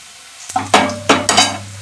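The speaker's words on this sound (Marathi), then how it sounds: "कांदा आपला छान भाजलाय, परफेक्ट भाजायला बघू शकता" Onions fry in hot oil in a pan for a Marathi chicken sukka, with a steady sizzle broken by several sharp scraping stirs and clinks of a spoon against the pan, close and loud.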